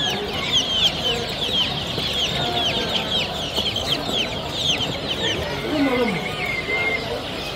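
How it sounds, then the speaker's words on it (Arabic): A crowd of Brahma chickens clucks and chirps continuously at close range at a Friday market, a busy overlapping chatter with scattered higher peeps, and a person talks faintly underneath. "فراخ الدجاج الابراهما"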